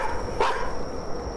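An angry dog in the Chilla's Art horror game The Karaoke lets out a single short, sharp bark over a low droning background. It sounds moderately close.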